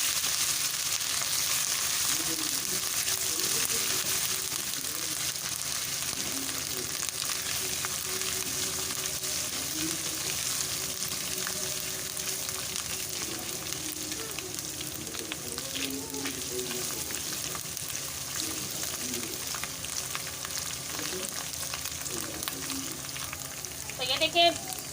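Two tablespoons of garlic ginger paste fry in hot oil for beef achar gosht, giving a steady, dense sizzle with occasional stirring scrapes that carries on throughout, with no speech.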